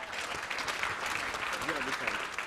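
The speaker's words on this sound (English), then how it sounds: "Donc vraiment, bravo à vous, applaudissez-vous." Dense, steady audience applause fills a grand-finale fintech challenge event, with a voice faintly audible through the clapping throughout.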